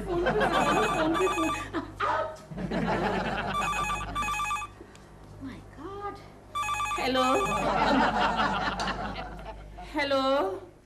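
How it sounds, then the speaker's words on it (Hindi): A telephone rings repeatedly in bursts of trilling electronic tones, loud and close, with people talking and laughing over and between the rings. "फोन पे फोन"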